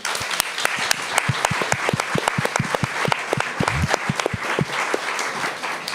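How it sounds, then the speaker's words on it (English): An audience applauding a speaker at a political talk on Giorgia Meloni, with sharp, distinct claps in a steady patter, fairly close and moderately loud, lasting throughout without speech. "Give him a warm applause."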